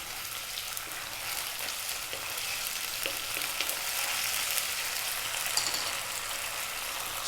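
Garlic ginger paste frying in a pan for an Indian vegetable curry, a steady close sizzle with faint stirring scrapes running the whole time and no talking.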